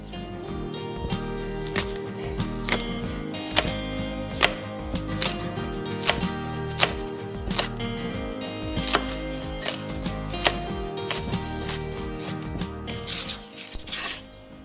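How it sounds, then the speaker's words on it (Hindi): A knife chops rapidly and repeatedly through crisp green onions on a board, sharp close taps in a steady, slightly uneven rhythm, with no talking. "मुझे बहुत अच्छी लगती है ये आवाज़ जब छुरी फ्रेश सब्जियों पे चलती है"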